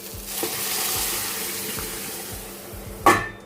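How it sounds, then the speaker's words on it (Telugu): Water is added to mashed dal in a hot pan after a tempering with asafoetida, giving a steady sizzling rush with soft stirring knocks and a brief louder splash near the end. "కొద్దిగా వాటర్ యాడ్ చేసేసుకుందాం"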